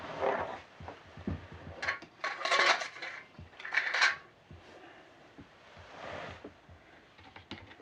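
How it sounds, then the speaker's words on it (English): Stirring a mixture in a container for a rock cross craft, with scraping and clinking bursts that come and go, close and moderately loud, with brief pauses between strokes. "Now I'm going to stir it up."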